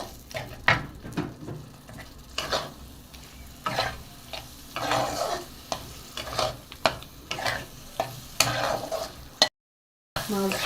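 Prawns for a Bengali chingri malai curry sauté in a pan, a soft frying sizzle broken by repeated scraping stirs of a spatula against the pan, close and quiet with a brief silent gap near the end.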